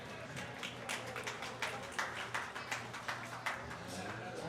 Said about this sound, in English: give the young people a big round of applause